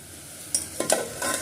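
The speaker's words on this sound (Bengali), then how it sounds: "আলু ভাজা বসিয়ে দিয়েছি" Potatoes frying in a pan, a soft steady sizzle broken by a few scraping stirs, close by, with no talk.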